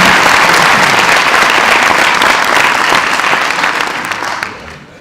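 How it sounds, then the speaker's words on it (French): An audience at a conference applauds a speaker, a strong wash of clapping that holds steady, then thins and fades out over the final second. "vous pouvez l'applaudir"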